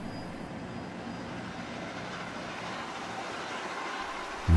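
Santa Fe 3751, a steam locomotive on a special run to San Bernardino, rumbles past as a steady, broad, fairly loud roar with no clear pauses.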